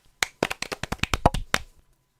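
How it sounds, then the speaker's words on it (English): Technicians applauding, a short burst of about a dozen crisp, close claps in quick uneven rhythm, starting abruptly and stopping after under two seconds. "The technicians also applaud her."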